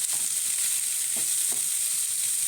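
Chopped onion and green chili sautéing in oil in a pan, a steady close sizzle and crackle with a few soft stirring scrapes, no voices.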